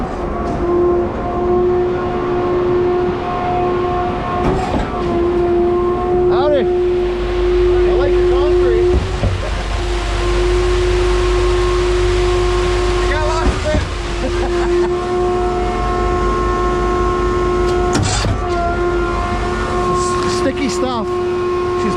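A brand-new Putzmeister 56Z concrete boom pump runs on a job site with a steady mechanical hum and a strong tonal whine. Deep pumping surges and sharp intermittent clanks break through the drone, and voices can be heard faintly.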